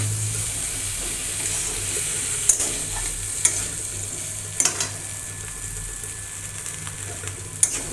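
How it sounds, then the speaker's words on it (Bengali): Boiled and fried young jackfruit sautéed with spice paste and tomato in a pan, giving a steady low sizzle with occasional sharp scrapes of a spoon stirring through it, close and continuous. "মশলার সঙ্গে আবারও ভালো করে কষিয়ে নিচ্ছি"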